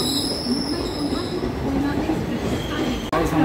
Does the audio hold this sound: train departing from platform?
yes